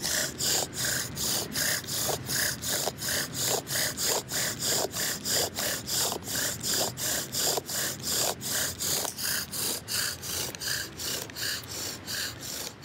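A wooden bow fire drill spins in its socket in a fast back-and-forth rhythm, each stroke giving a harsh, dry rubbing rasp, close and loud and continuous for the whole stretch.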